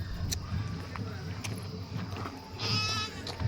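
A goat near a village temple in Chakrata bleats once near the end, brief and fairly faint, amid a murmur of voices and outdoor background noise.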